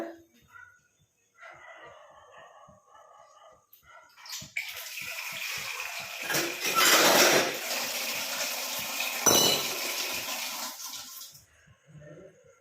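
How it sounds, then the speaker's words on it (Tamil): Water is poured into an iron pan and hisses loudly for several seconds, rising and falling, after quieter kitchen clatter. "ஒரு 3/4 டம்ளர் அளவுக்கு தண்ணி சேர்த்துக்கோங்க."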